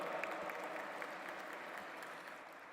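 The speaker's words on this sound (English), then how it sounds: "Please put your hands together and welcome with a big round of applause, Sheikh al-Islam al-Shakur Parzadeh." Steady applause from a crowd at the G20 Interfaith Summit 2023, a dense even patter of many hands clapping at once without a break, moderately loud throughout.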